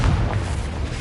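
A Confringo fire spell exploding in the Hogwarts Legacy video game, a short, loud, rumbling boom with dense low-end burst filling the whole moment.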